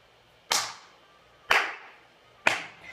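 A slow clap from the Surgeon Simulator video game: three sharp, isolated claps spaced about a second apart, each ringing out briefly, with no talk over them.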